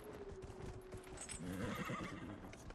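A horse in the video game Dragon Age Inquisition whinnies over a steady clip-clop of galloping hooves, quiet but continuous throughout.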